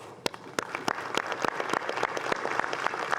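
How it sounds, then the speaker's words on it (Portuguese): Audience applause at a gathering on ending slave labour, a steady close patter of many hands clapping with sharp individual claps standing out, sustained for several seconds without speech. "as palmas poderiam ser para a ONU, mas são para vocês"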